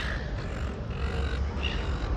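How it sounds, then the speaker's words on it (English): Birds calling outdoors in a busy open area where kids are feeding them, with crow-like caws rising over a steady low rumble of outdoor ambience, moderately close. "You can hear the birds."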